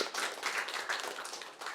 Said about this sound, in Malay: Tepukan untuk Datuk Roshamno.